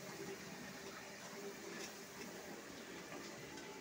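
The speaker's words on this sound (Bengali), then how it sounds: "জল দিচ্ছি।" Water pours steadily into a cooking pot while chicken chaap is being made, a soft continuous splashing wash that stays faint and even throughout.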